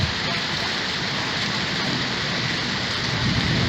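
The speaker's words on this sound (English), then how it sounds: "watching the rain come down" Heavy tropical rain pours down steadily in Thailand, a dense, loud, unbroken hiss that fills the whole stretch.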